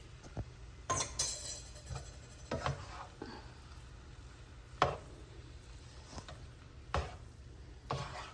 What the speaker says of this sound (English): you don't want to chop it too fine